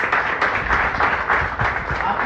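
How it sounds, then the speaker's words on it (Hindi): An audience claps for a speaker at an indoor gathering, a short burst of fairly loud, uneven applause from a modest crowd with no voices over it. "एक बार तालियां चाहूँगा एकता जी के लिए"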